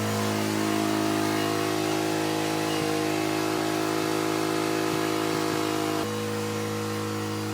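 A Jeep tow rig engine runs close by with a steady idle and some light revving, its pitch shifting slightly before settling into a lower drone.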